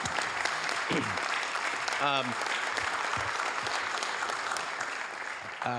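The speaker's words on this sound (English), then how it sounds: "a big round of applause" Steady audience applause fills a city council meeting room throughout, with a voice calling out briefly over the clapping.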